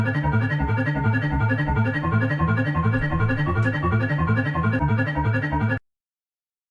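Incredibox Sprunki Phase 5 music loop in a video game, a loud, insistent pulsing pattern with a repeated ringing, ringtone-like figure that runs steadily for about six seconds and then cuts off abruptly.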